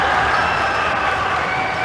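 Crowd at a high school volleyball regional final cheering and applauding, a steady dense roar of claps and voices held at even loudness throughout.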